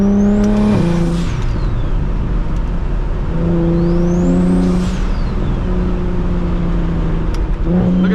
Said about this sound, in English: when them downshifts go crazy